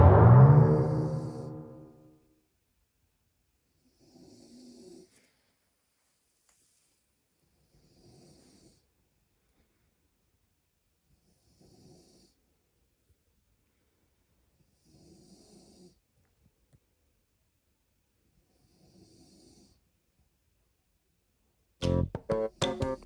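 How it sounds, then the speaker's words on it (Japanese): A person snoring in repeated slow breaths, one loud close snore at the start followed by several faint, evenly spaced snores in a quiet room, then a brief burst of another sound at the end. "いびきで眠れない"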